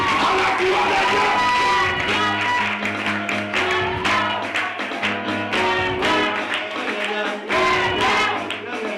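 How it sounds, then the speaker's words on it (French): A church crowd acclaims a preacher with loud cheering, whoops and claps, while music with sustained tones plays underneath and voices shout over the noise. "Recevons sous votre acclamation."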